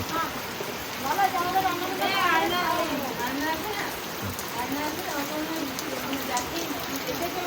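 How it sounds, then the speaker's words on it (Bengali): Heavy rain pours steadily in a dense, constant hiss, with a voice speaking faintly beneath the downpour. "এই দারুণ বৃষ্টি আরম্ভ হয়ে গেল।"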